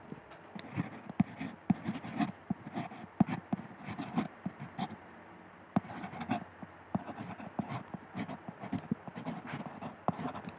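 A pen scratches across paper by hand in short, irregular strokes with brief pauses, close and fairly quiet.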